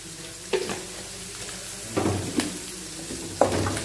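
Seasoned boiled chickpeas stirred in a pan with salt and sugar, a spoon scraping in three distinct bursts over a steady low sizzle, close and clear with no talking.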